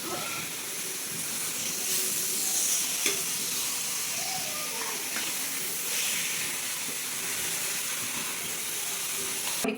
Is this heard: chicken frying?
yes